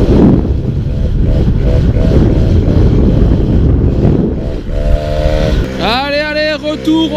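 A small fixed engine screams at full revs, loud and close with wind buffeting the microphone, its pitch climbing sharply in rising sweeps toward the end.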